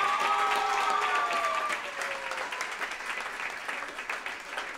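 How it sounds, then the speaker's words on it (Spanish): Audience at a cantata for the 500th anniversary of the Protestant Reformation applauds steadily and fairly loud, a dense wash of clapping that starts over the tail of sustained sung or played notes and then continues alone. "Un aplauso"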